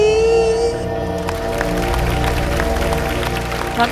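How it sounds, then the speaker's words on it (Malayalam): Audience applause after a stage performance breaks out as dense, steady clapping that continues for several seconds over a lingering musical tone at the start. "ആദ്യമായിട്ടാണ് ക്ലാപ്പ്"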